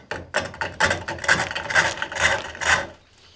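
A chisel makes shallow pivot cuts on a wooden handle spinning on a pole lathe, about six rhythmic rasping strokes close by, each swelling and fading as the treadle drives the wood back and forth.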